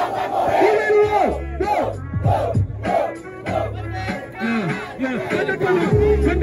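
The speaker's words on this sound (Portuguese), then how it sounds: "é o grito da plateia que faz a terra tremer" A rap battle audience shouts and roars together in loud, rhythmic crowd chants, the massed voices rising and falling in waves over a thumping beat.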